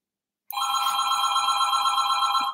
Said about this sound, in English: that house phone